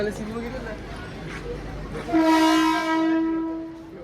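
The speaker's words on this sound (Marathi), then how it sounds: "येते ट्रेन येते." An air-conditioned local train arrives at a station and sounds a loud, sustained horn that rises over a steady wash of platform and rail noise.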